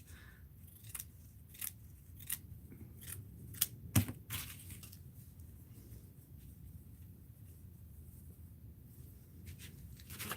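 Scissors snip through lace trim in a craft session, a series of short, crisp cuts spaced irregularly over a quiet background, with a few louder snips in the middle.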